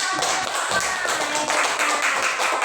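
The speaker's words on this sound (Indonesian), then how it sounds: "Bagus, tepuk tangan." A class applauds a group's work, a dense round of hand clapping from many pupils in a room, loud and steady for a few seconds, with a voice faintly underneath.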